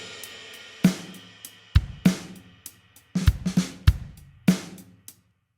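Logic's virtual drummer Kyle plays a modern rock groove with punchy kick and snare hits, sharp cymbal accents and sparse fills decaying between strikes, close and dry with no voice.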